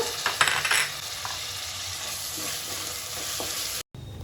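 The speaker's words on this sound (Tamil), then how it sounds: "இஞ்சி பூண்டு போட்டோடனே அடி பிடிக்கும், அதனால் பார்த்து கொஞ்சம் கிளறி விட்டுக்கோங்க." Ginger, garlic and tomato frying in a pan for a Chettinad mutton gravy, a steady close sizzle with spoon scrapes and clinks against the pan as the mix is stirred.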